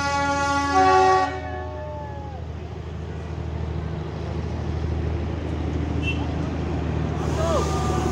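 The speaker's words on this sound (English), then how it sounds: "So it has three bogies of diesel engine." A diesel train with three bogies passes nearby in Darjeeling: its horn blares at the start, then a steady rumbling roll of wheels and engine continues, with a brief squeal of metal near the end.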